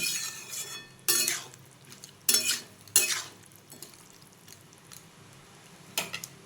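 Dalia roasts with mung and arhar dal in a pan, with quiet, faint sizzling broken by several short bursts of spoon scraping and clinking against the pan.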